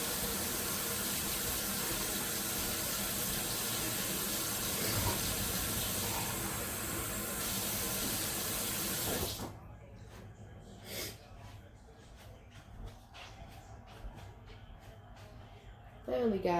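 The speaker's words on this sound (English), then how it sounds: "And we'll go fill that cup real quick." Hot water runs steadily from a tap, then cuts off to quieter clinks and small sounds of a cup being handled nearby.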